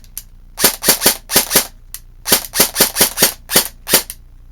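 A repaired VFC HK416 airsoft rifle fires in quick bursts of sharp, loud snapping shots, two or three at a time with short pauses between, close by and without talk.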